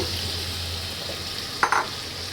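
Boiled chicken frying with potatoes in a pan gives a steady low sizzle, broken once by a brief scrape of stirring.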